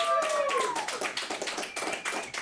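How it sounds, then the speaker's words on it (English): An audience at a roast battle comedy tournament claps to vote for a contestant: a dense burst of many hands clapping together, fairly close and sustained for a couple of seconds, with a brief tonal sound at the start. "everyone clap"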